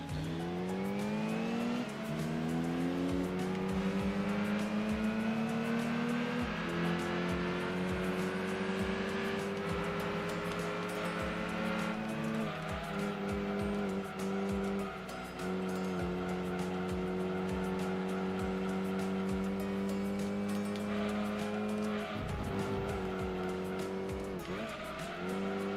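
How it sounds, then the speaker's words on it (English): Several race car engines in the video game Gran Turismo 2 roar and rev continuously, with shifting pitch and occasional tire squeal, loud and close throughout with no talking. "A lot of cars have the same engine sound."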